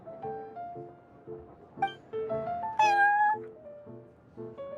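Prince, a cat in Genshin Impact, meows in a string of short tonal calls, one rising, drawn-out and louder cry in the middle, heard over a soft repeating musical backing.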